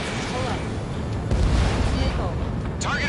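A missile explosion in the jet combat game Ace Combat 7 booms as a loud, sustained low rumble over jet engine roar, with radio chatter from voices mixed in.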